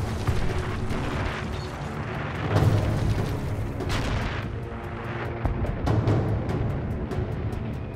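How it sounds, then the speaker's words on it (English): German 88mm anti-tank gun firing in wartime combat, a dense rumble of heavy booms and blasts with a strong hit near the middle and another later, layered over continuous low battlefield noise. "the German 88mm anti-tank gun"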